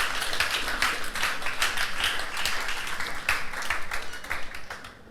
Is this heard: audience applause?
yes